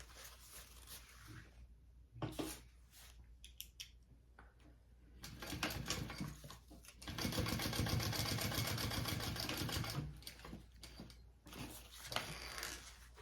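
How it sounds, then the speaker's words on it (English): Domestic sewing machine top stitching through two fabric layers and a seam, with bursts of rapid mechanical stitching running steadily and fairly close, separated by quieter pauses between runs. "I'm going to top stitch through both these layers and that seam"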